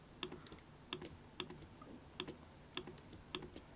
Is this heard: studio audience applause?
no